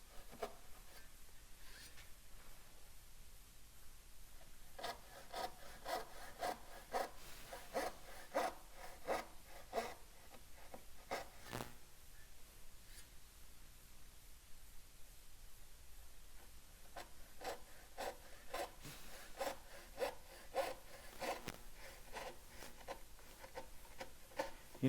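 Narrow-set hand saw cutting through wood, the blade running in its kerf with no play, giving bursts of repeated rasping strokes with brief pauses between runs, close and moderately loud.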